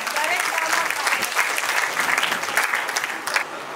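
Audience applause for a village women's group at a stage performance, a loud, dense burst of clapping from a crowd that continues steadily before tapering slightly.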